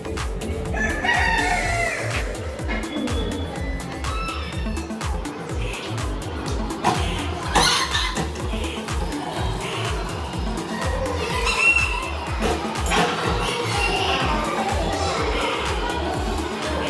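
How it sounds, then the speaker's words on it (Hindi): Roosters crow at Bijoliya temple in Bhilwara, their calls recurring at a moderate distance over a busy outdoor background with clucking hens, traffic and crowd noise. "ये अमरिया मुर्गे कहलाते हैं और यहाँ स्वच्छंद विचरण करते रहते हैं।"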